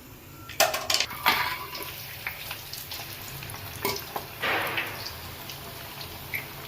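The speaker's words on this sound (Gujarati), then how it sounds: "તો આપણે હવે બીજો ઘાણ પણ તળી નાખીએ" Onion tikdi bhajiya frying in hot oil, a soft steady sizzle with bursts of crackling and spattering, plus a few sharp clinks and splashes as fritters go into the pan.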